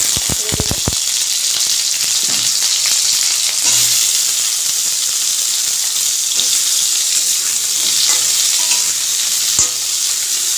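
Salted pointed gourds (potol) fry in hot oil that was already used for fritters, giving a loud, continuous close sizzle with a few sharp clinks at the start and occasional stirring knocks.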